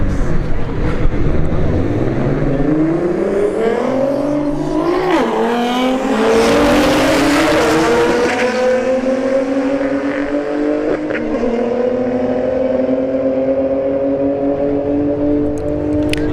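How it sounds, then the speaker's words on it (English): A Nissan GTR and a BMW 135i drag racing at a strip: loud engines rev and climb through rising, shifting gear tones, then settle into a sustained high-speed drone as the cars pull away. "Alright, Nissan GTR in the right lane. The BMW 135i in the left lane."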